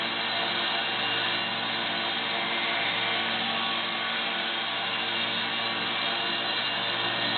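A Sungold wet belt knife sharpener grinds a knife blade on a water-cooled belt, giving a steady, loud, unbroken abrasive whir and hiss that holds evenly from start to finish with no talking.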